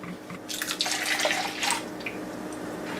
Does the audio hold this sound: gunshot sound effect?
no